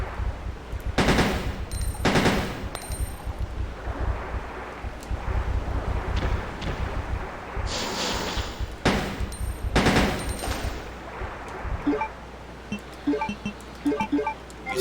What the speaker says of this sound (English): I'm just using the bullets in a burst pattern